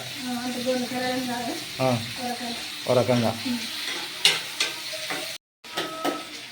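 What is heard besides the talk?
garlic frying in a pan for sherva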